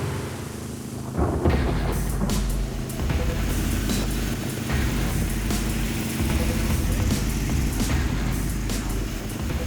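Rumbling thunder rolls through a severe thunderstorm, heard from inside a moving car with steady road and engine noise underneath, loud and continuous with several deep swells.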